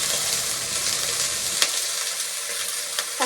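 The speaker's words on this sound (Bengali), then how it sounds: "সবজিটা দিয়ে একটু নাড়াচাড়া করবো" Vegetables and potatoes fry in a pan with a steady, close hiss and sizzle, broken by a few light scrapes and clicks as they are stirred.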